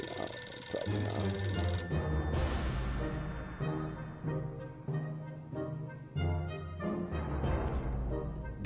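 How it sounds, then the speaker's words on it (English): A telephone bell ringing indoors, rising over a dense bed of game music with repeated electronic chimes, steady and fairly loud throughout. "I thought that that was my phone."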